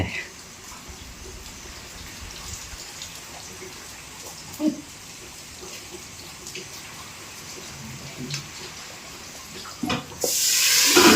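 Water is poured into a cooking pot while fara roti is made on a clay stove, a soft steady trickle ending in a louder splashing gush near the end.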